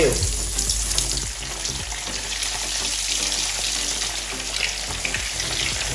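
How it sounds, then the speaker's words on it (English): Tofu sizzles and crackles steadily in hot oil, a continuous close frying hiss with small pops throughout. "So I'll begin to drop the tofu inside the oil."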